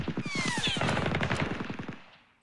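Rapid burst of machine gun fire from a West Front wargame video game, a loud rattling string of shots that fades out toward the end.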